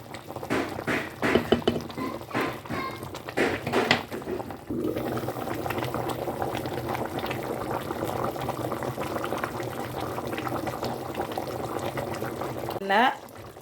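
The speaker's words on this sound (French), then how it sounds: "on va laisser bouillir comme ça une vingtaine de minutes" Tiéboudienne with meat and vegetables bubbles in a pot, a steady close boil with a few louder splashes and clatters at the start and a brief liquid pour near the end.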